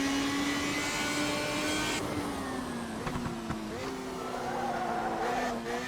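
Radical SR3 race car driving hard on a track, its engine droning loudly and steadily with pitch dips and rises through gear changes and lift-off moments, close and continuous throughout.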